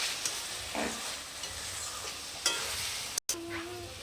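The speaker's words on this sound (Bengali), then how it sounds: "ভালো করে কষিয়ে নিচ্ছে" Spices, including homemade cumin powder, being sautéed in a pan: a quiet, steady sizzle with a few light scrapes and taps of a spoon, and a short break in sound near the end.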